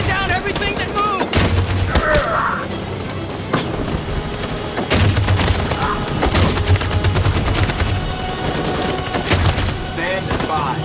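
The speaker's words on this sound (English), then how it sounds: "That machine gun is taking down everything that moves!" Sustained machine gun fire in the video game Detroit: Become Human, dense loud bursts of rapid shots with booming impacts, with shouted voices in between.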